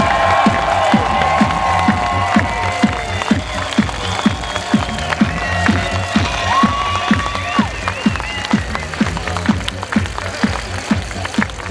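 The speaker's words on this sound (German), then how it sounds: "Und jetzt einen ganz besonders lauten Applaus für ein Geburtstagskind" A large outdoor crowd on a town market square claps and cheers for a birthday honoree at a master craftsmen's celebration, a loud continuous wash of applause with sharp rhythmic thumps running under it.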